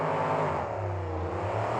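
Loud monster truck engines roar and rev together in a sustained, throaty drone, heavy trucks powering hard off the start line at a race in New Orleans.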